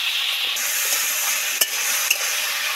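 Potato pieces stirred into tomato and garlic frying in a pan for a small crab curry, a steady close sizzle with soft scraping and two sharp clinks of a utensil against the pan.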